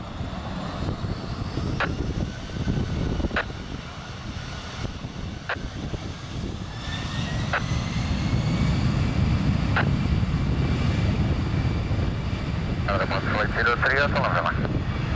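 Jet airliner engine roar building at Lisbon Airport during a takeoff run, a steady loud rumble that swells midway and holds, with brief radio-style chirps and ticks over it.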